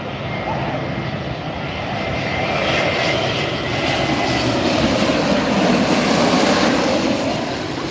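A Spirit Airlines jet airliner roars past at LAX, a broad, loud, sustained engine rumble and whine that swells slightly as it goes by, with no talk over it.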